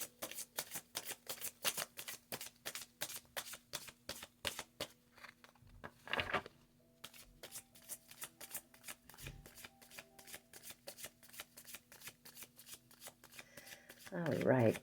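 A deck of oracle cards is shuffled up close, each pass making a soft, crisp riffle. The riffles repeat in a steady rhythm, pause briefly midway, and swell louder at the end.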